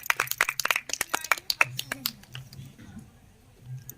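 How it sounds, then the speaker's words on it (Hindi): Scattered, uneven claps from a small audience, sharp and close at first, then thinning out and fading after about two seconds. "ताली बजाइए।"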